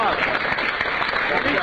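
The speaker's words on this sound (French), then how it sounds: "Monsieur Montchaussée a mérité qu'on l'applaudisse." Studio audience of a French radio comedy panel show applauding a contestant who just won 150 euros, a dense, steady burst of clapping at close range with cheering voices mixed in throughout.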